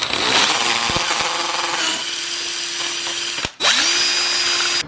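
A power drill bores a pilot hole with a 5/16 inch bit during a Nissan 350Z coilover install. The motor whines loud and steady, cuts out briefly near the end, then spins back up.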